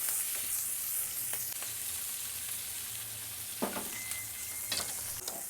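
Shallots, ginger and garlic sautéing in a pan for veg kuska: a constant hissing sizzle with occasional spatula scrapes and clinks, fairly quiet and close, with no speech.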